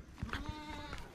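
A goat gives a short, wavering bleat that stands out clearly against a quiet outdoor background, with a couple of soft knocks just before it.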